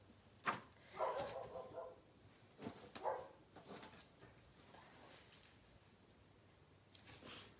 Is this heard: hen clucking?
no